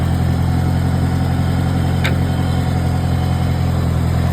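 A Farmall 140 tractor engine runs close by at a steady, loud idle-to-mid rev, a constant low rumble with no speech over it.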